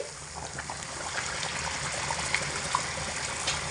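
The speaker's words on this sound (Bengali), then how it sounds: "আবারও এক বাটি এইটা দিয়ে মোটামুটি আট বাটি জল দিচ্ছি" Water tipped from a bowl into a pot of cooking khichuri, a steady close trickle and gush of liquid for a few seconds with no talking.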